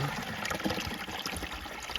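Spring water flows freely from a natural source without any pump, a close, steady trickling and splashing stream that runs throughout.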